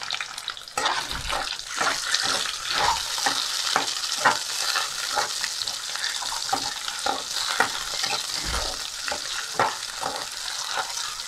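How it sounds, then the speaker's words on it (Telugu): Boiled eggs frying with onions and curry leaves in a pan for Telugu egg curry: a steady, loud, close sizzle with repeated scraping stirs of a spatula throughout, no voices. "కలుపుకొని కొద్దిసేపు వేగనివ్వాలి."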